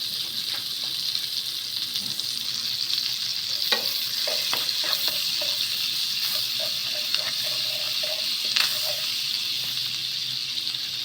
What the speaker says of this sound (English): Melt some butter in the pan. Add some chili powder